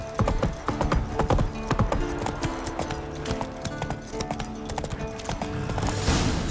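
A horse gallops in The Witcher 3: Wild Hunt, a loud, fast rhythmic clip-clop of hooves running steadily throughout, close up and alone, with a brief rise of noise near the end.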